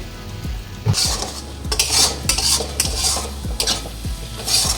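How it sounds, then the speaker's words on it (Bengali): Mutton curry masala with Kashmiri chilli powder is stirred in a pan: a steady rhythm of metal spoon scraping and clinking against the pan over a low sizzle, close and fairly loud, with no talk. "ভালোভাবে আমি কষিয়ে নিচ্ছি অল্প একটু জল দিচ্ছি কড়ার গায়ে যাতে লেগে না যায়"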